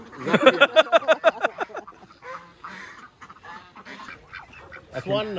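Swans at a mini zoo give a rapid burst of loud nasal honks, followed by scattered quieter calls and another short honking burst at the end, mixed with some background voices.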